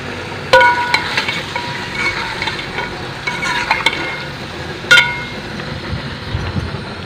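Onions frying in a cooking pan, a steady close sizzle running throughout with a few sharp utensil clinks and stirring scrapes, no talking.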